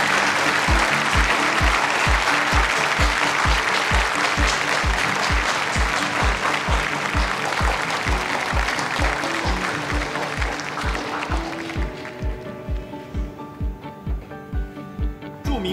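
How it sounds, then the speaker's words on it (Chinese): Audience applause fills a formal strategic-partnership signing ceremony as the two parties' representatives take the stage: dense, steady clapping from a crowd that gradually thins and fades toward the end. "掌声欢迎。"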